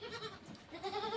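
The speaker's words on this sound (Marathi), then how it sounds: "बकऱ्या इथे बकऱ्या आहेत" Goats bleat on a farm, with a couple of short, close, wavering calls.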